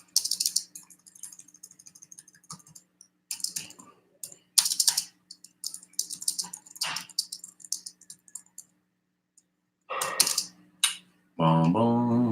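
Someone taps a password on a computer keyboard in scattered bursts of clicky keystrokes separated by quiet pauses, close and crisp, ending in a louder rising tonal beep.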